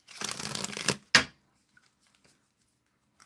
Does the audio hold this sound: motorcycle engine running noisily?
no